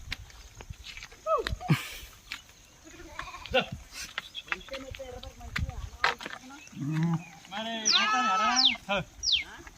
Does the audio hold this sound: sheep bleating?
yes